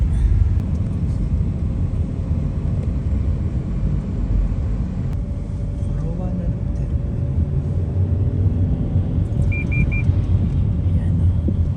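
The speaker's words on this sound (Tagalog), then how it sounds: "Traffic" Highway 400 traffic near Toronto, a steady broad roar of passing vehicles and road rumble heard continuously from inside a moving car, loud and unbroken throughout.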